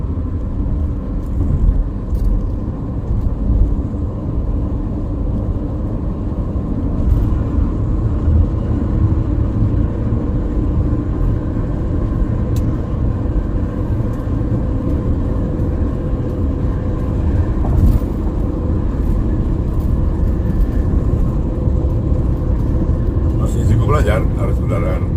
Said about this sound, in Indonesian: Lancar arus kendaraan ke arah Cikampek di tol Cipali, Cikampek Palimanan dari arah timur atau sebaliknya.